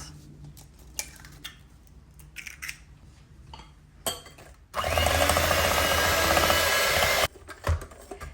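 Eggs being mixed one at a time into cupcake batter of caster sugar, starting with light taps and clinks, then a steady loud whirring burst of mixing for a few seconds before stopping.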